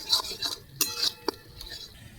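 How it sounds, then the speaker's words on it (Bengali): A spoon scraping and clinking against a pan while chicken masala is stirred and cooked down, with several light metallic taps spread out across a quiet background. "চিকেন মশলা ভালো করে কষবো"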